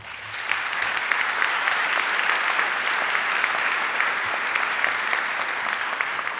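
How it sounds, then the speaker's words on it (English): Sustained, even applause fills the hall at a high school academic awards ceremony, a dense crowd of clapping hands holding steady at full strength without pause or voices. "you deserve to be applauded"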